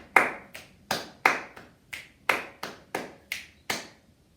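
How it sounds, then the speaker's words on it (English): Hand claps and finger clicks ring out in a sharp, evenly spaced pattern, about a dozen crisp hits with small gaps of quiet between them in a quiet room. "So it's 2 claps, click, 3 claps, click, 3 claps, click"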